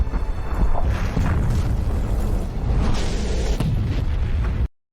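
A city explodes in a zombie film, a heavy booming blast followed by a long rumbling roar of debris and fire that cuts off abruptly at the end.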